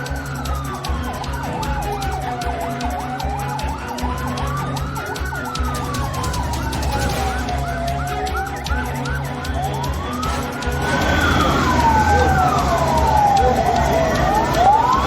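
Ambulance sirens wail continuously along a road carrying bodies after the Wayanad landslide, rising and falling loudly with a second overlapping siren joining near the end, over rumbling traffic and engine noise.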